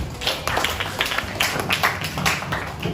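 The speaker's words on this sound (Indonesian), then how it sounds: "Ya, tepuk tangan." Classroom students clapping hands during a Qur'an vocabulary lesson, a steady patter of many close claps running throughout, with no talk over it.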